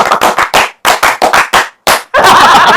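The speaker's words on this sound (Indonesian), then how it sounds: "mungkin pembukaannya kita harus tepuk Pramuka" A Pramuka scout clap routine, sharp rhythmic handclaps in patterned groups with short pauses, ending in a sustained burst of fast clapping, loud and close.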